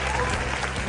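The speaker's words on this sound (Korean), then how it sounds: "여러분들 캄보디아 법인을 위해서 큰 박수 부탁드리겠습니다" A seminar audience breaks into applause, a brief burst of dense clapping from many hands, with some voices mixed in.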